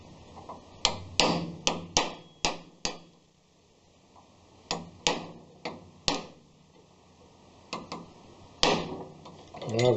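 Sharp metallic knocks from a socket and extension being struck to drive a part down inside a Peerless Tecumseh transaxle, coming in close, loud clusters of two to five hits separated by pauses.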